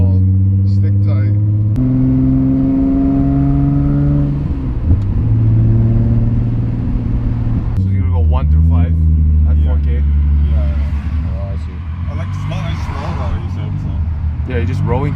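A supercharged Nissan 350Z NISMO drives with a steady, close engine drone whose pitch climbs and drops as it revs, with people talking over it throughout.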